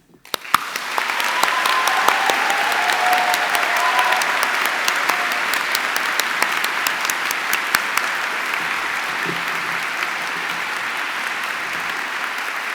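A large audience at a university graduation ceremony applauds warmly and steadily, the clapping rising quickly at the start and holding for over ten seconds.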